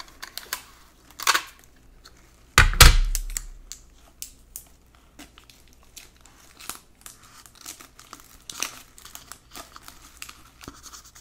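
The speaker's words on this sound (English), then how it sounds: "So I'm going to tape that on and then we'll try it." Tape being pulled and applied to a homemade trumpet, with scattered crinkles and tearing rips and one sharp loud burst near the middle, close and alone in a quiet room.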